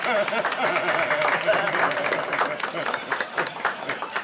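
An audience applauds to welcome a show titled Uçan Fil Jumbo ve Pöftürük at a birthday party, a dense patter of clapping with voices mixed in.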